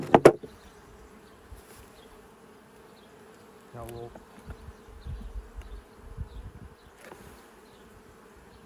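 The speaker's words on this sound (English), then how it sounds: "This is inner cover, and we've got bees on" Soft, steady buzzing of many honey bees on an opened hive fills the background, with a few brief handling knocks and a short spoken phrase over it.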